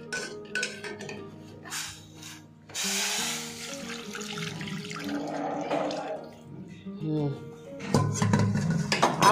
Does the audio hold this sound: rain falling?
no